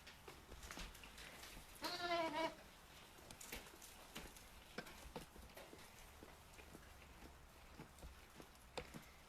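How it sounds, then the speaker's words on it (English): Newborn twin lambs at a nature preserve bleat in one short wavering burst near the start, followed by scattered soft knocks and shuffling, with light background noise throughout. "two new sheep, two little lambs, twins, have joined our family"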